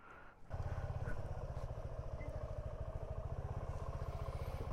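A heavily loaded touring motorcycle pulls away, its engine settling into a steady, close, rhythmic mid-pitched thrum after a short quiet start, revving slightly near the end.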